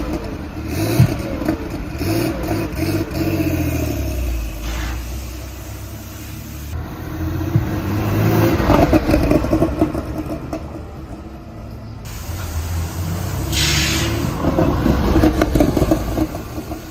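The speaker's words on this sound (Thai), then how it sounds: "เราก็ทำขึ้นมาใหม่ครับโดยใช้ทรงเดิมนี่แหละแต่ว่าข้างในจะโกรงขึ้นนิดนึงเพื่อจะได้เสียงที่มันเพราะขึ้น" Porsche 930 engine revving through a rebuilt exhaust with a reshaped, more open interior, rising and falling in several loud, close surges with rough rumbling between them and no talking.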